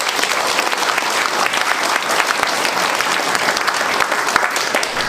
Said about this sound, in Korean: 부모님들께 박수 한번 해주시면.